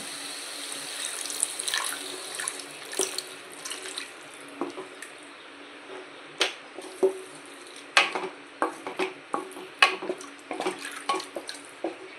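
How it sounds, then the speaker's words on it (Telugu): Water runs and splashes into a metal pot of green peas mutton masala, followed by a string of clinks and scraping knocks as it is stirred. "కొంచెం వాటర్ పోసుకోవాలండి ఇందులో."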